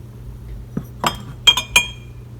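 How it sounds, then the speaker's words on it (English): A wine glass clinks a few times in a kitchen, with sharp bright taps close by against a quiet background, one soft knock first and then a quick cluster of ringing chinks. "You then go over and find the wine glass."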